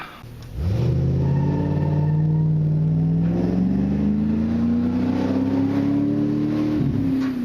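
A Corvette Stingray revs up and drives past close by, its tone rising steadily into a loud, throaty roar before dropping off at the end.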